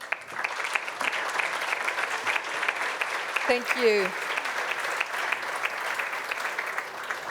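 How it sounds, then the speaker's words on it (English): An audience applauds after a panel discussion at a corporate finance infrastructure event, a steady patter of clapping throughout with a brief spoken thanks in the middle. "I think we can give a great applause to everyone."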